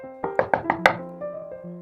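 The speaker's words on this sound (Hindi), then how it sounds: "जो ही रात हुई घर के दरवाजे पे दस्तक हुई" Five quick knocks on a house door, sharp and evenly spaced, followed by a low lingering tone, part of a narrated children's story.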